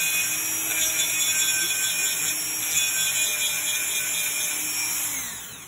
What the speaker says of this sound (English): So I have a Dremel. Okay. And I just Dremel it smooth.